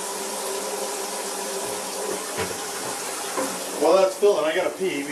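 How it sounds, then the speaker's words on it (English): A tap runs water into a container during home meal prep, a steady mid-level rushing flow, with a voice briefly heard toward the end. "we're just going to fill this full of water"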